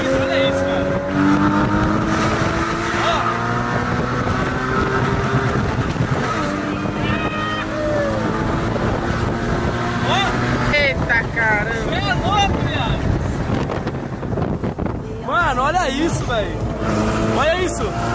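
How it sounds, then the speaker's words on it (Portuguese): A Porsche with a naturally aspirated six-cylinder engine runs and revs loudly and steadily throughout, with rising and falling engine tones under wind buffeting and near continuous talk. "É um 6 cilindros aspirado, coisa mais linda do mundo."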